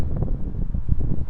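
Wind gusts buffeting a microphone outdoors, a steady low rumbling roar that swells and dips in close, heavy bursts with no other sounds over it.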